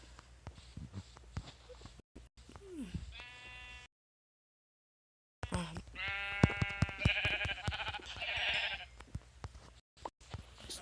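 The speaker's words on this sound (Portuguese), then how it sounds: "Bastante ovelha aqui." Sheep bleat in a survival video game, with several wavering calls rising over soft footsteps and small clicking game sounds, including a short dropout partway through.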